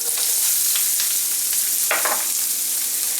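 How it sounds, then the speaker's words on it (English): Onions sizzle in hot oil in a heated pan, a steady broadband frying hiss throughout with a few brief louder crackles and stirring scrapes near the middle. "I'm going to start by sauteing my onions"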